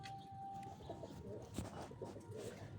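Pigeons on a rooftop coo softly and continuously over a low murmuring background, with brief flutters and a faint steady tone running through.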